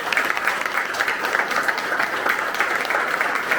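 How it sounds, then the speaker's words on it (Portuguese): Audience applause at a political forum talk in Milan, a steady dense clapping from a crowd that fills the room evenly and continuously, with no speech over it. "uma salva de palmas para a Ana."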